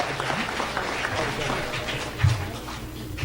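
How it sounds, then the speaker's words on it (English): A round of applause fills a school board of education meeting, a dense, moderately loud clapping crowd with voices mixed into the clatter throughout. "So a round of applause for them."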